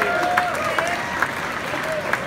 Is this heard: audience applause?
yes